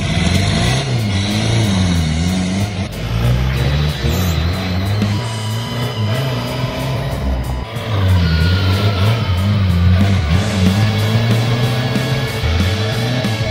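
A Peugeot engine rigged to a horn button for flat-out fuel revs hard while rolling coal, a loud, close, continuous engine roar with rising and falling surges.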